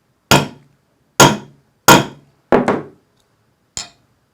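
Five sharp hammer blows on a line 24 snap setter while setting a snap cap into its socket, evenly spaced, loud and close; the fourth is a quick double strike and the last is lighter.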